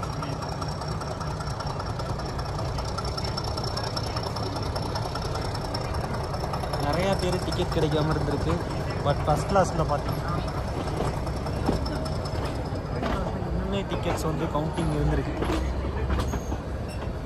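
Diesel engine of the Ooty to Coonoor hill toy train rumbles steadily and slowly throughout, with rattling carriages, while a person talks over it at length.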